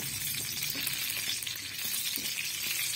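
Slit green chillies frying in hot oil crackle and sizzle continuously at close range, with light stirring scrapes under the steady bright hiss and no talk.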